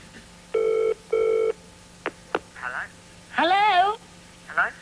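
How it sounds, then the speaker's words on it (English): A British-style telephone ringing out with two clear double-ring bursts on the line, followed by brief clicks and people talking, in a 1988 television studio setting. "It's ringing out."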